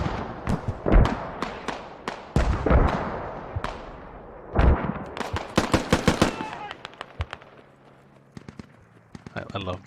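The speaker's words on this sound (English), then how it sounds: "Can you hear the firing behind him?" Rapid gunfire rings out in a 50-versus-50 infantry battle video game, with volleys of sharp shots and quick bursts that are near and loud at times, scattered and more distant at others, and a voice talks over some of them.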